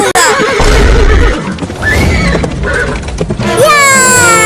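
A horse whinnies in a comedic rural skit, the call rising and falling in clear harmonic waves near the end, after a stretch of loud low rumble and voices shouting over it.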